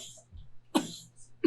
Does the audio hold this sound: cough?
yes